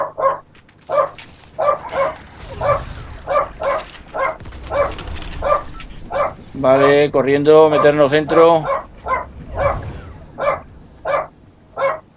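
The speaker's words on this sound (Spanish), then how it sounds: "A este perro que no para de ladrar." A dog barks steadily in a room, with a long series of evenly spaced, fairly loud barks running the whole time. A voice cuts in briefly over the barking partway through while he plays Fortnite on an Xbox One.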